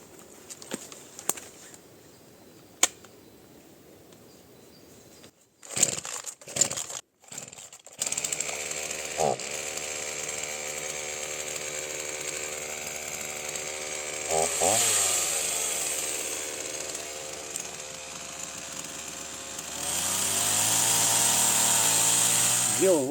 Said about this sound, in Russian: вот пильнуть вот это потоньше дерево, посмотреть, как пойдет дело